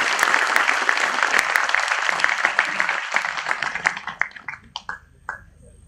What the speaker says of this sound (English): a big round of applause for the research teams who have been active in this technology conference